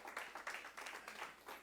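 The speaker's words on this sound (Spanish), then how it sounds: "Dale una ofrenda de palmas al Rey en el nombre de Jesús" Church congregation clapping together as an offering of praise, a quick rhythmic patter of many hands, fairly soft and steady throughout.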